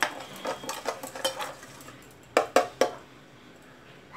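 Utensil scraping and clinking in a pan while mustard oil is mixed into spices for steamed hilsa, a series of quick, close stirring taps followed by three sharper knocks, with no talk.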